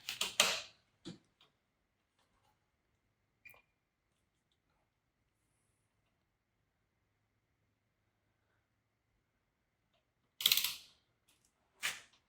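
A 22mm wrench works the clutch nut on a Honda CRF125F dirt bike, giving short metallic ratcheting clicks and clunks in separated bursts near the start and end, with long quiet stretches between.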